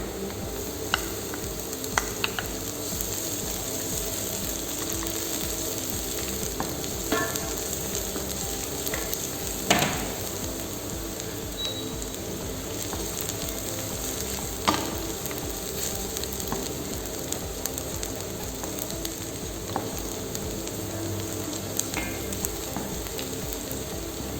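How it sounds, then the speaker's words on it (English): Finely chopped garlic fries steadily in a pan for Moroccan harira soup, a continuous dense sizzle with small crackles and occasional faint utensil clicks, close and even throughout with no talking. "add some fine chopped garlic"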